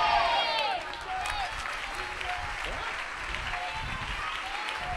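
A church congregation claps steadily in a large hall during a sermon, a broad wash of applause with a faint voice and scattered sounds underneath.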